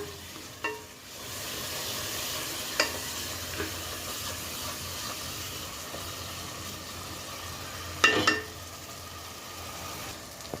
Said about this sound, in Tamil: அந்த பதம் வர வரைக்கும் நம்ம கிண்டி எடுக்கலாம்